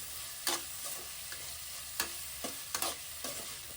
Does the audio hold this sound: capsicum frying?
yes